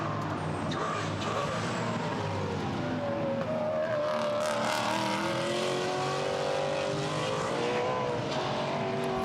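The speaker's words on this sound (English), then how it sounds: "Fantastic sound from that Maserati, isn't it?" Maserati GT4 race car at Misano circuit, a continuous engine drone with rising and falling revs that holds steady throughout, heard from a distance amid general track noise.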